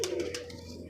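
A pigeon gives a close, soft, throaty coo with a low, steady hum. The single brief call is clear and heard without any talk.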